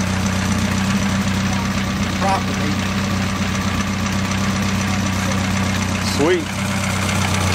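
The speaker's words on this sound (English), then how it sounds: "There's the little engine." A small engine idles steadily with a low, even hum and mild knocking throughout, heard close up while people talk briefly over it.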